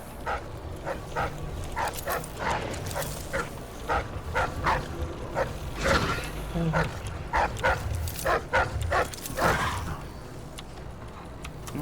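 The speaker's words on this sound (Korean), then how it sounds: "강아지 난리 나네 지금 옆에" Dogs in the video game Dishonored 2 bark in repeated sharp bursts across the whole stretch, loud and fairly close, with a voice briefly heard.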